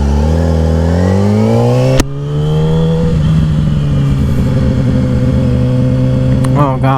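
A Yamaha R6 sport bike with a cut exhaust accelerates to pass a bus, its engine rising in pitch, then a sharp gear shift and a loud steady drone close by as it pulls ahead.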